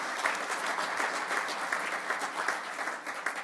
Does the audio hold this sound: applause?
yes